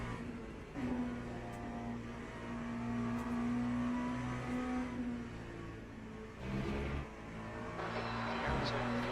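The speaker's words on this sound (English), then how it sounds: "You just hear the roar of the V8 coming up behind you." A V8 race car engine in the Le Mans Ultimate racing game roars steadily throughout with sustained harmonic drone and rising surges, loud and close, without any talk.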